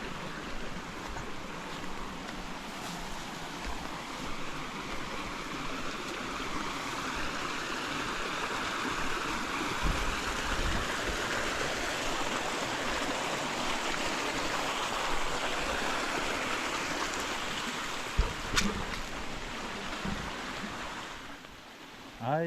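Water gushes from a PVC pipe tap on a farm, a steady, dense, close rushing roar that continues unbroken, with a few faint knocks and no voices.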